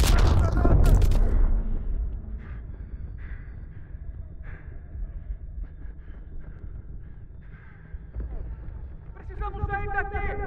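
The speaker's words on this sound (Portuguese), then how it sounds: "Lançando granada!" A grenade blast in the World War II shooter Call of Duty: WWII, a loud booming burst at the start that fades into rumbling battle noise with scattered shouts and voices underneath.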